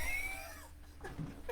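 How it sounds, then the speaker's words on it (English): A pet cat gives a drawn-out meow that wavers and falls away, followed by a couple of shorter, softer cries, fairly close in a quiet indoor room. "Did you guys hear him meow?"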